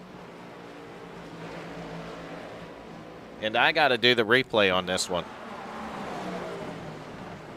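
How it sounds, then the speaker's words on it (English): Race cars in a video game racing series at Phoenix hum as a steady engine drone beneath someone talking over them throughout. "how do the cars sound? The actual cars."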